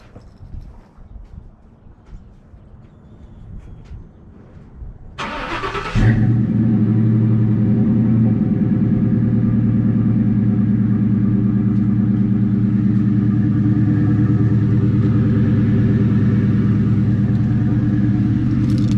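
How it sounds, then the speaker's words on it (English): A Toyota Supra engine cold-starts, cranking and catching after a few quiet seconds, then settles into a loud, steady idle rumble close by. "I guess we get a cold start on the 2000 for you guys"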